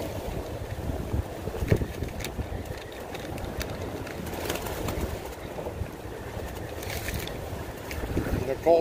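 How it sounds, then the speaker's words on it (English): Strong cold wind buffets the microphone at a waterside fishing spot, a steady rushing roar throughout, with faint birds and talking voices underneath. "Cold wind scared everybody off."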